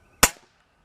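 One sharp crack from a break-barrel pellet gun, close and loud, with a short decaying tail in an otherwise quiet setting.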